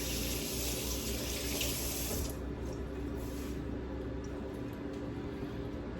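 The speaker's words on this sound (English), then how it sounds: "I'm gonna rinse my hands." Hands rinsed under a running kitchen tap while making a pineapple and strawberry shortcake: a close, steady stream of water splashing into a sink that stops about a third of the way through, leaving a faint low hum.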